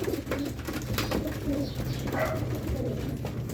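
Several pigeons coo softly, low throaty calls repeating close by over a faint background hum.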